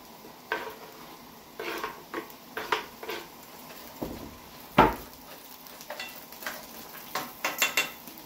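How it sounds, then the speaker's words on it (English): Mushrooms dropped into a pan of cooking shredded carrots and baby corn for a ramen noodle meal, giving soft scattered clatters and stirring scrapes with a faint sizzle, quiet and close. "Now we're just going to add the mushrooms to that."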